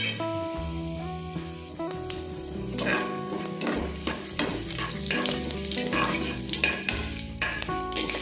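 Bay leaf, star anise, fennel, cinnamon and cloves crackle and sizzle in hot oil for tomato biryani, a dense continuous fry with scattered pops, heard alongside steady tonal background music.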